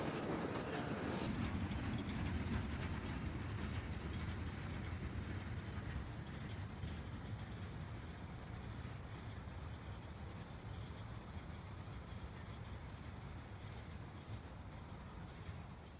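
The CSX 0709 Tampa to Plant City switcher freight train rolls past with a continuous, loud low rumble and steady rail noise that stays constant throughout.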